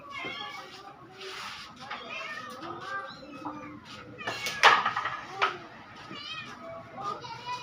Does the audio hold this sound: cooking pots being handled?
no